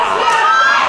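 A Boston wrestling crowd roars and shouts in a loud, sustained wall of cheering voices during a match.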